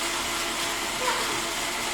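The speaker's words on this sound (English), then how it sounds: "we have to blend it up first" Blender whirring at full speed through homemade sriracha sauce, a steady dense roar close by with no pauses.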